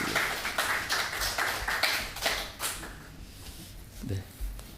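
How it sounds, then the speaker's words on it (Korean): A church congregation claps during a service, a run of moderately loud, slightly uneven claps that thins out after a few seconds, leaving softer room noise and a few faint knocks. "박수 한번 부탁합니다"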